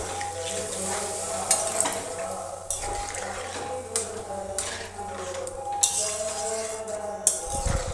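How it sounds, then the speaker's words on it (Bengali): Spiced potatoes for aloo dum frying in a pan as water is added, giving a steady sizzle with stirring and clinks of a utensil against the pot, close by, with faint voices in the background. "এরপর আমি 1 গ্লাস জল দিয়ে দেব।"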